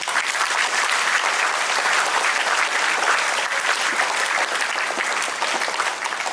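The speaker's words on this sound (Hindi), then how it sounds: "अभी सबों के लिए एक जोरदार ताली मारें।" Loud, sustained clapping from a church congregation at a Catholic priestly ordination, a dense, even wash of many hands that continues without pause and without voices.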